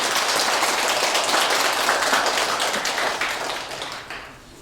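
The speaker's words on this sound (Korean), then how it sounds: "모두 큰 박수로 스님을 환영해 주시기 바랍니다" Sustained audience applause in a Buddhist Wednesday dharma assembly hall welcoming a monk, dense clapping from many hands that gradually fades toward the end.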